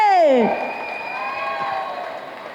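Applause greets actress Radhika Kumaraswamy at a public event, a steady wash of clapping that follows a brief tonal sweep and fades gradually over a couple of seconds.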